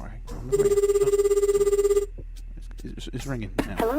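A telephone rings on an outgoing call, sounding as one long steady ring tone near and clear, after which people begin talking.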